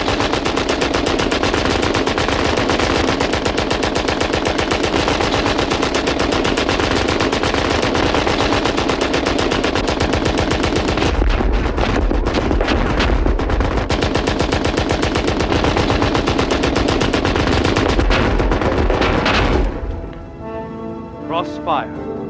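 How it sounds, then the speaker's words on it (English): A German machine gun fires in long, rapid sustained bursts on the World War I front, loud and close, with a brief break partway through. The firing stops near the end. "As long as the machine gun's intact, neither side can cross no man's land."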